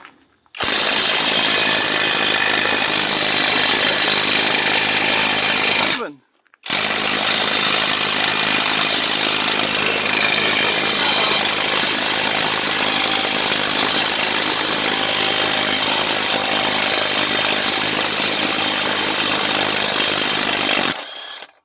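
Cheap cordless impact wrench from Amazon running on spring shackle bolts: a loud, steady, buzzing hammer drone held for several seconds, a brief stop, then a much longer continuous run, close up and alone.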